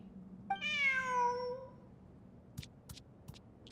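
A single drawn-out cat meow in the video game Genshin Impact, clear and fairly close, followed by a few soft clicks against quiet background hum.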